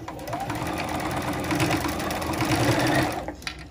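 A sewing machine back-stitches a reusable fabric surgical-style face mask, running as a steady, close mechanical whir with a rapid needle rhythm for several seconds before slowing at the end.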